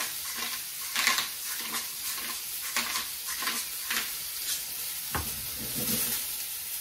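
Mushrooms sautéing in melted butter in a pan, a fairly loud sizzle broken by rhythmic stirring strokes and occasional pan clinks, close and steady.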